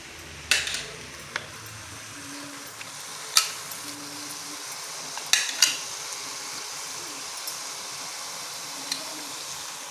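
Ground masala being stirred into a pot of small-onion sambar, soft bubbling and faint sizzle punctuated by a few sharp spoon clinks against the pot, quiet and close.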